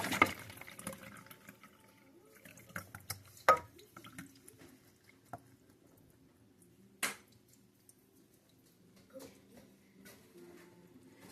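Liquid from canned beans drips and trickles through a metal strainer in scattered, faint splashes and clinks, close by in a quiet kitchen, with a few sharper taps among them.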